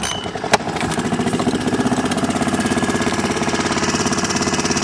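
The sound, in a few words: Honda outboard motor starting and idling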